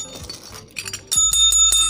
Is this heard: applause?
no